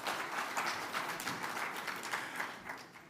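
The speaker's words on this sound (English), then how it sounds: "Please, a round of applause for her." Steady applause from an audience at an investment summit session, the clapping dense and even for about three seconds, moderately near, without speech.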